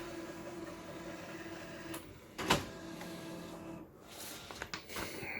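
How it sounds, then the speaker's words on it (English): Epson 1500 printer printing a nozzle check pattern: quiet mechanical whirring with a louder clunk of the print head midway and a few faint clicks later, no speech. "Let's do a print nozzle check pattern. Print. Okay, it's printing now."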